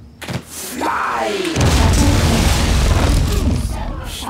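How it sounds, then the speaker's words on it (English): An explosion in the Shadow Tactics: Blades of the Shogun video game: a short thump, then a loud, sustained broadband roar of the blast with rumbling debris, voices faintly mixed in. "Fine explosion."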